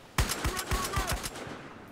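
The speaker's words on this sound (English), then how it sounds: "Where am I getting shot from?" Rapid gunfire in Battlefield Hardline, a burst of five or six loud, evenly spaced shots with echoing tails that die away into a quieter background; no talking.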